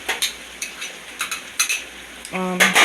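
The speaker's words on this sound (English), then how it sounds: "I buy these frozen mixed green pepper and onions, and I'm gonna throw them in here for extra flavor." Frozen mixed green peppers and onions going into a cooking pot for arroz con pollo: a series of light clinks and clatters against the pot, then a rising sizzle near the end, up close with no talking.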